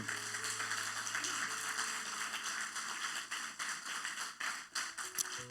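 A church congregation applauds at a Sunday service, a dense steady wash of many hands clapping at moderate distance, with held musical tones underneath throughout.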